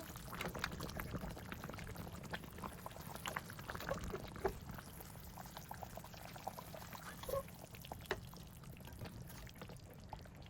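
Roast chicken cooking in a kadhai as its released water simmers away: a steady, moderately quiet bubbling and sizzling hiss with small crackles throughout, no voices.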